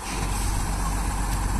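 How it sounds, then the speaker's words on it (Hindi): A Tata truck reverses with its engine running, a loud continuous low diesel rumble and rush of noise close by, with no clear speech. "गाड़ी तो पीछे जा रही है"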